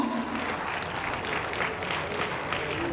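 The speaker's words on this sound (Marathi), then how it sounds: "प्रचंड अशा टाळ्यांच्या गजरामध्ये आपण स्वागत करायचंय" A crowd applauds steadily to welcome Eknath Shinde at a public event, a dense, continuous clapping that stays even throughout.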